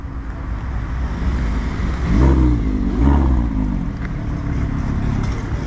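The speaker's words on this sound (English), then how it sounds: "Tamura's behind me pulling in an R8." An Audi R8 pulls in at a night car meet in Houston, its engine rumbling under ambient noise and swelling into two short revving bursts before settling back to a low idle.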